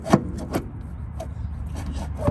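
A new upper control arm is wiggled into place on a Honda Civic's passenger side: a few close, knocking clunks and scraping rubs of metal against the mount, with quiet pauses between.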